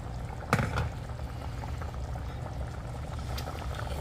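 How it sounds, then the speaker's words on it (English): Water is poured into a pot of simmering kakwari catfish cooking for gravy, a soft bubbling and liquid splash beginning with a brief sharp clatter, then steady gentle boiling. "And I'm gonna add some water just for some gravy and for cooking."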